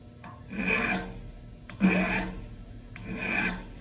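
Hand file rasping flat across the rakers of a chainsaw chain held in a vise, in three slow, even strokes of about a second each with short pauses between, close and moderately loud with no talking.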